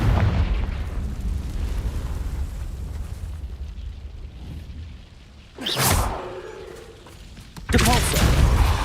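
Confringo fire spell blasts in Hogwarts Legacy, heard as a rumbling fiery eruption followed by two sharp, loud bursts with whooshing tails late in the clip; a voice calls out the spell name.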